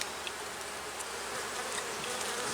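Honey bees drone steadily around an opened hive being inspected for queen cells, a close, continuous buzz that never lets up, with no talking.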